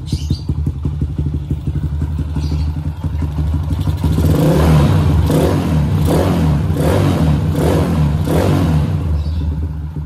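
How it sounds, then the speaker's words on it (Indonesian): A motorcycle engine fitted with a PWK 28 carburetor, a used N-Racing unit that has been repaired, revs up sharply in a run of quick, close, loud blips, picking up cleanly from low RPM with no stutter or hesitation. "RPM bawah langsung naik tanpa berebet."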